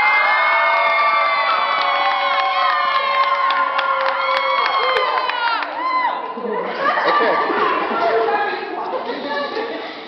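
A crowd of children at a school awards ceremony cheering, screaming and whooping together, loud and continuous for about ten seconds with high-pitched shrieks throughout.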